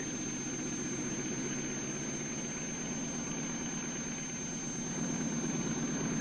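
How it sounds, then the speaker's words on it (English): The Spirit of St. Louis, Lindbergh's single-engine monoplane, rolls down a muddy runway on its 1927 takeoff run. A steady, loud engine drone with a broad rushing roar holds without a break from start to finish. "the Spirit of St. Louis began to roll down the muddy runway"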